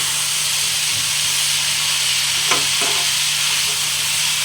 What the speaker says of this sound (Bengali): এরপর আমি এটা ভালোভাবে কষে নেব।